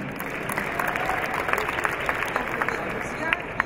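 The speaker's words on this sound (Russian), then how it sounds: "Аплодисменты нашим в Египте." An audience at a Moscow dive show applauds, a dense, sustained clapping from a crowd with a voice speaking over it.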